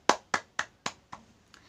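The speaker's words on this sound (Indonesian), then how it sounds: "tepuk tangan untuk kelompok 1" Claps in an elementary school classroom, applauding a student group: five distinct, close hand claps in an even rhythm, the last one weaker and followed by a faint sixth clap, with no talking.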